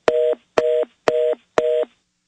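Four evenly spaced beeps of a telephone line tone on a phone system during a call, each a loud steady pitched pulse with brief silence between.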